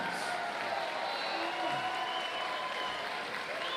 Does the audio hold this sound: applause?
yes